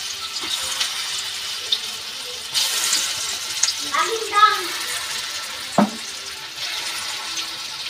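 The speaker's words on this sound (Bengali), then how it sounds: "যে কটা কড়াই দিয়েছিলাম তুলে নিয়েছি, আবার দিয়ে দিচ্ছি পরেরগুলো। এইভাবে আমি সবগুলো ভেজে নেব।" Vegetable pakoras deep-fry in a wok with a constant bubbling sizzle, broken by a brief burst of running water, a few clinks and a short squeak, close and without talk.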